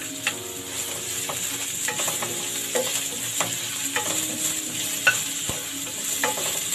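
Garlic and onion sautéing for chicken adobo, a continuous close sizzle broken by regular scraping and tapping of a spoon against the pan.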